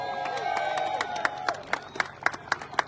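A crowd claps in a round of applause at the close of an NHRA licensing school week, with sharp individual claps standing out toward the end over a low hum of voices.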